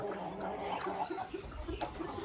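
A Polish rooster gives soft, low clucking sounds in short bursts among other farm fowl, moderately close with background noise.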